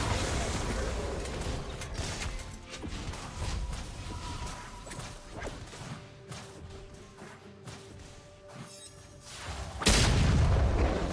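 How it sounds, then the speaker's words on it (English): A turret is destroyed in the League of Legends video game, with a dense stream of booming impacts and crashing effects, ending in a sudden loud blast near the end. "Blue team's turret has been destroyed."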